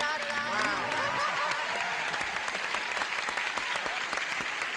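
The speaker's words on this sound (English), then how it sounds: "if you will just do a little polite applause while I welcome her properly" Polite studio audience applause, a steady wash of many hands clapping at close range, holding evenly throughout with a faint bit of chatter underneath.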